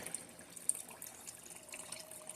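Water poured steadily into a pot of chili with meat and vegetables, a quiet continuous trickle and splash, close by, with no talking over it.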